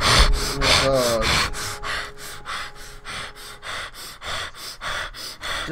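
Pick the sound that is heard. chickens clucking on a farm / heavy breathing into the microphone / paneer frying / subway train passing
heavy breathing into the microphone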